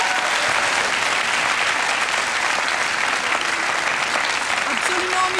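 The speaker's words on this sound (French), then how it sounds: "On peut vous applaudir encore une fois." A studio audience at a televised Belgian quiz show final applauds, a dense, sustained wash of clapping from many hands, steady and fairly loud throughout with faint voices beneath.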